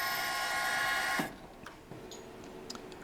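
A steady high-pitched whine from a milling machine drilling brass runs for about a second, then cuts off, leaving faint ticks and clicks.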